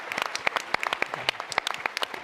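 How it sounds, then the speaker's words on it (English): An audience at a tech startup conference applauds, with dense, crisp close claps in a quick irregular patter that stays lively for the whole moment. "one more round of applause for StratiX"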